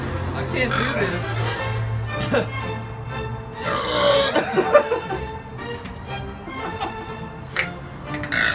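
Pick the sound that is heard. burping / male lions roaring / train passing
burping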